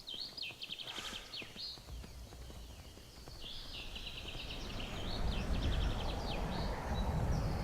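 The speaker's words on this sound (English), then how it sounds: "Time for some experimental horse mountaineering." Steady clip-clop of horse hooves on hard ground in Skyrim, with bright chirping bird calls overhead, the hoofbeats growing louder and rumbling toward the end.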